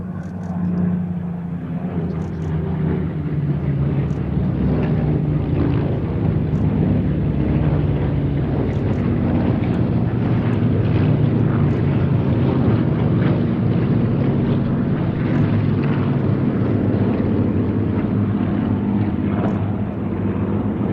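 A formation of nine aircraft flying a tail chase at an airshow, a continuous broad engine roar that stays steady throughout with some wind buffeting on the microphone, no speech.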